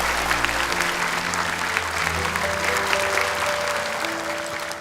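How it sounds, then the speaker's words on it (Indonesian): Audience applause at a children's Quran memorization competition, steady dense clapping throughout with a faint musical tone underneath, sustained and fairly loud. "Sekali lagi buat tepuk tangan untuk mereka."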